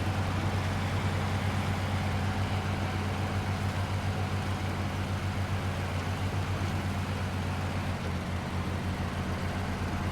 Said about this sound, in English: You hear it revving, it just sounds like it should be clicking into another gear.